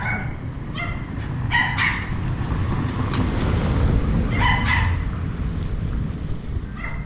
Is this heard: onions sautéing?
no